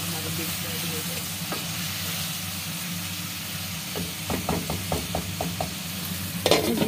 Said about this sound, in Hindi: आलू हमारे डाल जाएंगे तो फिर इसके दोबारा फ्राई करेंगे अच्छी तरह